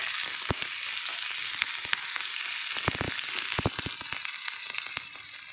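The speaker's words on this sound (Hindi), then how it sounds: "प्याज और हरी मिर्च अच्छे से फ्राई हो गई" Sliced onion and green chillies fry in a pan with a loud, continuous crackling sizzle, punctuated by sharp clicks and pops from stirring, close and without speech.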